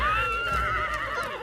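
A cartoon horse neighs in a single drawn-out whinny, loud and close, with a wavering tone that fades over about a second and a half.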